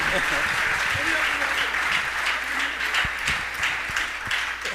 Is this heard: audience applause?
yes